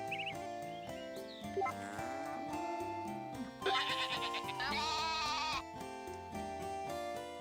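Sheep bleat repeatedly on a farm in the video game Story of Seasons: A Wonderful Life. The loud, wavering calls sound over steady background game music.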